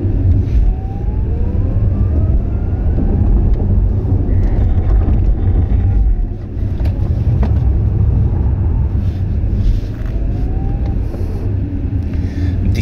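Audi RS e-tron GT electric sports car driving on a race track, a steady loud whir of motor and tyre roar with rising whine sweeps, continuous and close with no speech.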